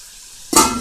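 Meat for ugu soup hits a hot pot and bursts into a sudden, close, bright sizzle halfway through, the steady frying hiss carrying on alone after the quiet start.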